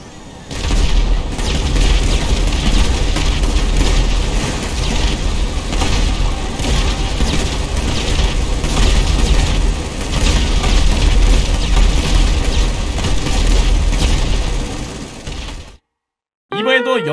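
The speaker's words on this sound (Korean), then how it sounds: "폭탄을 바로 터뜨려 볼게요" Gas canister bomb detonating in GTA5, a sustained barrage of heavy booms and crackling blasts rolling on for about fifteen seconds before cutting to silence.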